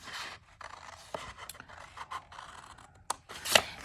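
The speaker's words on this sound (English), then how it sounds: "And then we're gonna cut this one off as well." Scissors snip through cardstock paper for a folded triple-pocket craft project. There are several short, crisp cuts with quiet rustling and handling sounds in between, close up and with no talking.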